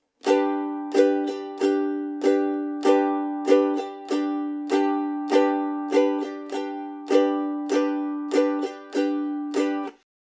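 A ukulele is strummed repeatedly on one chord in a steady rhythmic pattern, bright and close, each strum ringing briefly before the next.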